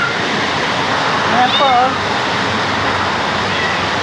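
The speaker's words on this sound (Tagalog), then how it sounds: "Ang lakas pa ng ulan! Ayaw pag tumigil ng ulan." Steady roar of heavy rain during a flood at a house fills the clip, with a voice speaking briefly in Filipino over the downpour.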